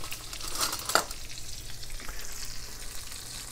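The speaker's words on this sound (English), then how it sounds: "looking for a nice sizzle here" Chicken sizzles and crackles in a hot pan, a steady close frying hiss with a couple of sharper pops near the start.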